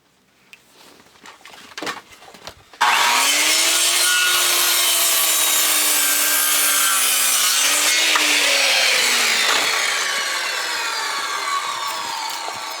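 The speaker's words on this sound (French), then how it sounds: "Alors, on va s'en scier un." Hand saw cutting through a 3x6 wooden roof truss board outdoors in a Québec winter, a loud, steady run of rasping back-and-forth strokes that carries on for about ten seconds after a short pause with faint handling noise.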